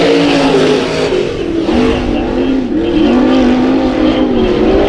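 Race cars on the dirt oval at Bakersfield Speedway during heat races, engines roaring loud and close with rising and falling revs as the cars pass and accelerate.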